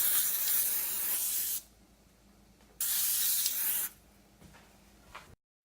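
Two bursts of spray from a can of extra virgin olive oil coating a bowl in a kitchen, each a steady hiss of about a second and a half, with a fainter short spritz after them.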